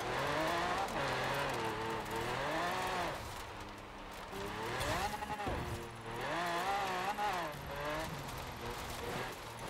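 Mosler car in Forza Horizon 4 revving hard through a speed zone, its engine pitch climbing and falling with gear shifts and brief tire squeal, loud and continuous.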